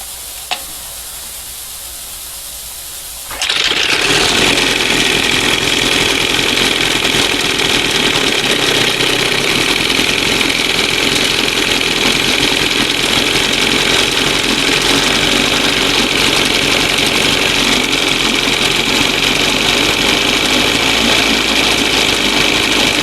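A 1971 Johnson 20 HP outboard motor starts after a few quiet seconds and then runs at a steady, loud, buzzing idle close by for the rest of the time, with no talk over it.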